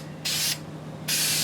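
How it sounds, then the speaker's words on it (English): A Hyundai Tiburon door handle, second generation, is spray painted to match the car: two short aerosol bursts of bright hiss, the second longer, with a quiet pause between them. "Now he's spray painting it"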